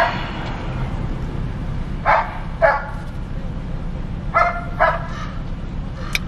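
Several dogs bark in short bursts at a distance, two pairs of barks spaced apart over a steady low background hum, with no talk over them.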